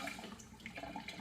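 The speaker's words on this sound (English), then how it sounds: "I'm just gonna add a little bit of tap water to this" A short, quiet splash of tap water poured into a blender of frozen blueberries and leafy greens for a smoothie, a soft trickling wash with no voices over it.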